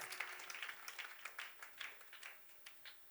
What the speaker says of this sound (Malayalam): ഒരു ക്ലാപ്പ് കൊടുത്തേ, അവർക്ക് ഒരു സുന്ദര ക്ലാപ്പ് കൊടുത്തേ